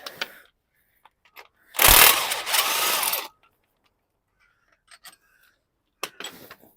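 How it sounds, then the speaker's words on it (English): Bolt on the lower starter motor of a 2-litre VW Transporter being undone with a power tool, one loud burst of about a second and a half followed by a lighter run, then a few faint clicks and knocks, closing on a short clatter. "Can undo the lower starter motor bolt"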